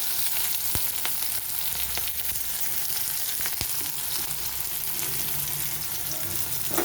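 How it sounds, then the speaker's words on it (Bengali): Sliced onion and green chillies fry in oil left over from frying fish, a steady close hiss of sizzling oil with a few light stirring taps and scrapes, no talk. "এবারে আমি ওই তেলের মধ্যেই দিয়ে দেবো কাঁচা লঙ্কা আর পেঁয়াজ কেটে রাখা যেটা ছিল সেটা।"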